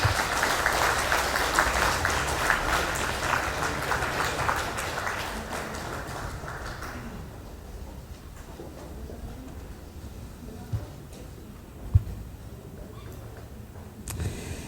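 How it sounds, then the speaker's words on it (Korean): Audience applause at an indoor community welfare forum in Guro as guests exit, a dense sustained clapping for about seven seconds that fades to a quiet room with occasional small bumps and a sharp click near the end. "다시 한번 큰 박수 부탁드립니다"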